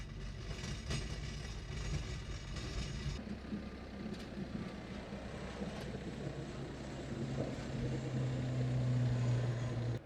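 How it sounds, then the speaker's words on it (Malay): A light propeller plane drones continuously from inside the cabin, a steady engine rumble with a low hum that grows slightly louder and rougher toward the end. "ini adalah pengalaman kita naik pesawat"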